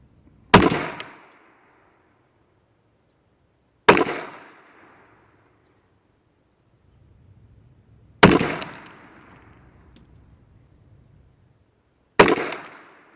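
Four sharp, loud gunshots from an AMT Auto Mag II .22 Magnum pistol, spaced several seconds apart, each a crisp crack with a short decaying echo, with no talking between them.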